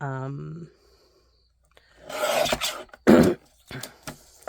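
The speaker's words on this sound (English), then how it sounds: "So, I'm going to cut a 1/2 inch strip" Scissors cut a half-inch strip of paper for card stamping in a few close rasping snips and swishes, after a brief spoken bit.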